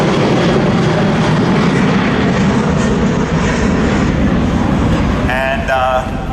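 An F-35 Lightning jet makes a low dirty pass with its gear and flaps out, a loud continuous roaring rumble at an air display, with a rising whine near the end.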